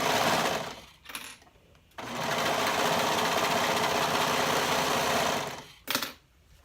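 A sewing machine stitches a quarter-inch seam on a tank bodice, running in a loud, fast, steady whir for several seconds, with brief stops and a short restart before and after.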